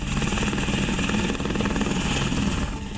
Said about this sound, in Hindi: आसमान में अपाचे हेलीकॉप्टर की गर्जना है